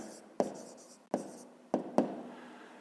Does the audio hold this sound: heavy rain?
no